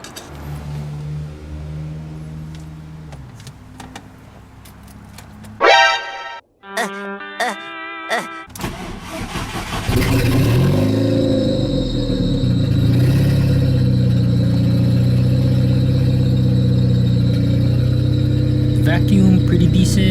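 A rebuilt big-turbo VW GTI engine cranks and catches, sputtering through a few rough pulses before settling into a loud, steady idle with a faint whine over it.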